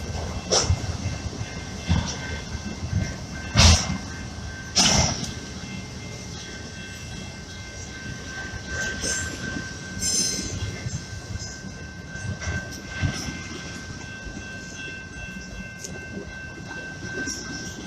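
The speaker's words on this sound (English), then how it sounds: "This train is such a very, very long train" A very long train rolling past close by, with a steady rumble of wheels on rails, repeated clanks and clicks from passing cars, and a thin sustained squeal running through it.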